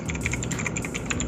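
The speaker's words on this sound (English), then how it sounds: "Because it has a loud clicky noise." A Zifriend ZA646 mechanical keyboard with loud clicky switches is typed on rapidly, producing a steady, bright stream of sharp close clicks with no speech.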